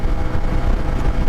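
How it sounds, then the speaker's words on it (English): A CFMoto Ibex 450 motorcycle engine runs at high revs at highway speed, a steady, loud drone mixed with wind rush that never lets up across the brief moment. "It sounds like it's revving high."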